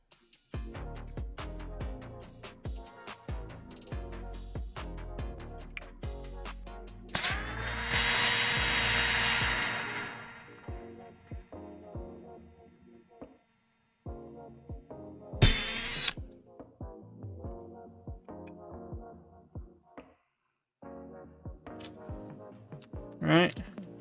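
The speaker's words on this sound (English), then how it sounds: "So let's drill the second one." A power drill bores a second bolt hole for a pan-tilt camera mount, with a long loud whine mid-way, another short burst later and intermittent clicks and handling noises between.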